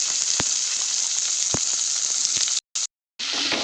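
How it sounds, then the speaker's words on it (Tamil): Green beans and onions sizzle steadily in hot oil in a pan, a bright continuous frying crackle with a few soft stirring knocks and a brief drop-out near the end. "பீன்ஸ் நல்லா எண்ணெயிலே நல்லா வதங்கணும்"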